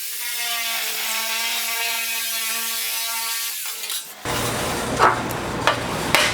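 A hand tool cutting the top layer off a sheet metal fender panel: a steady, ringing metallic whine for several seconds, then a rougher grinding rasp with a few sharp clicks, close up.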